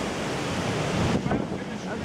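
Strong wind and surf roar during Hurricane Sandy, a loud continuous rush of wind buffeting the microphone over crashing waves, with no clear pause.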